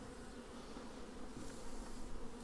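Dense, steady hum of many honeybees buzzing inside an open beehive during a spring inspection, close and continuous with no talk.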